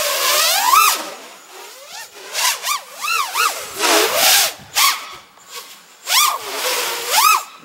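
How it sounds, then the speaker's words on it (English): FPV quadcopter on Gemfan Windancer 5042 propellers making a full-throttle pass, its motor whine rising and falling in repeated swooping Doppler sweeps as it flies near and away, loud and alone. "Let's do a full speed pass from this direction here. Wow, these suck at full throttle."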